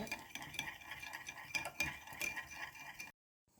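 Ketchup-based sauce being stirred with a pinch of salt and sugar, a spoon tapping and scraping against a bowl in quick repeated clinks for about three seconds before cutting to silence, no talking.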